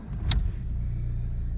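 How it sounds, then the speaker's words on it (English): A VW Passat 1.9 TDI 130 Sport diesel car started by push button: a short starter burst, then the engine settles into a steady low diesel idle, heard from inside the car. "The car starts on the button."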